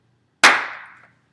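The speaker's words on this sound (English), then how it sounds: "So we have the clean clap." One sharp hand clap in a quiet room for recording sync, a single close crack with a short decaying tail and silence before and after.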